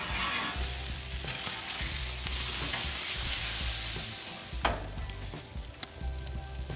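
Grapeseed oil sizzling loudly on a hot teppanyaki griddle, a continuous close hiss with occasional sharp taps from utensils, steady throughout and easing slightly toward the end.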